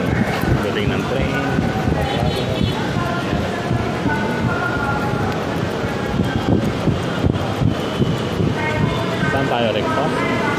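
An LRT Line 2 train pulls into Pasig Marikina station in Marikina City, a steady broadband rumble and rush of wind lasting throughout, with people talking over it on the platform.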